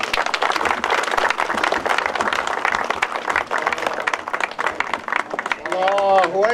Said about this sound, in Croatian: jedan aplauz, molim vas